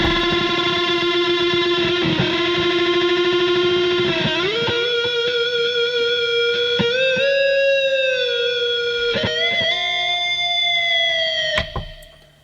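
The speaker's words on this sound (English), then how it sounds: "This is the just the dry guitar, but I did print it with a bit of reverb on it already, and it has an amp sound already inbuilt." Dry electric guitar tracked on a Zoom R16 multitrack with a touch of reverb and built-in amp tone, sustained distorted notes ringing and sliding through a steady, loud, continuous melodic line that cuts off at the end.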